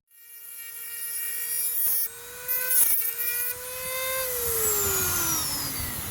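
A two-speed Dremel rotary tool whines at a steady high pitch, spinning up, dipping briefly mid-run, then winding down in falling pitch, close and alone without talk.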